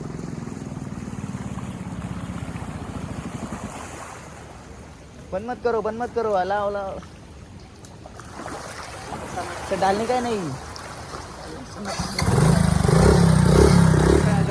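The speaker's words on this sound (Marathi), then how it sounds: "यांनी पाण्यामध्ये गाडी टाकून आणली" A motorcycle pushes through deep floodwater on a road beside the flooding Ulhas River, its engine note rising and falling near at hand with water churning and splashing as people shout nearby.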